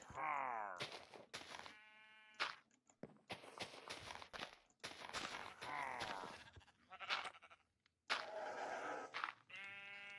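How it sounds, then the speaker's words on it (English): Repeated horse calls and hoof-like footsteps mixed with busy Minecraft game sounds, fairly loud and continuous, with occasional faint voices in the mix. "listening to the horses, it's a bit annoying."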